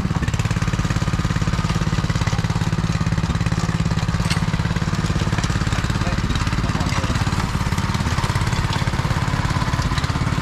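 Diesel engine of a water borewell drilling rig running steadily at close range, a loud continuous throbbing rumble with a dense mechanical clatter that holds level and unbroken throughout.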